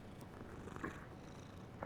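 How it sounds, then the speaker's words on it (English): A cat in the video game Hogwarts Legacy purrs in a soft, steady, close rumble that runs continuously without pause. "Kitty cat."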